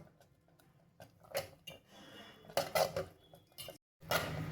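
Kalkandu pongal being mashed in a pot with a ladle over a low flame, heard as scattered close scrapes and knocks of the ladle against the pot, with a brief silent gap near the end.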